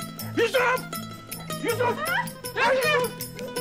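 Dog barks and whimpering yips in a Turkish village comedy series, loud and close, repeated in short bursts mixed with shouting voices.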